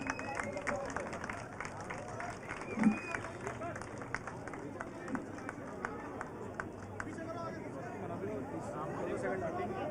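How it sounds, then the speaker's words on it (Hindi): An audience at a film team's event at NIMS University claps for a guest named Subhash, giving a steady patter of applause and crowd noise beneath someone speaking into a microphone. "जोरदार तालियां सुभाष जी के लिए"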